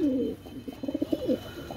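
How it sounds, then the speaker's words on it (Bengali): Pakistani teddy pigeons cooing nearby, a pair of birds giving soft, rhythmic throaty coos in a short series of pulses, with no talk. "দেখছেন ভিউয়ার্স, টপ কোয়ালিটির কবুতর"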